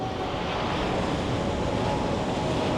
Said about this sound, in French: C'est des sacrées vagues, hein.